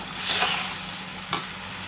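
Something sautéing in oil in a pan, sizzling steadily with a soft stir or scrape partway through, close by and with no talking.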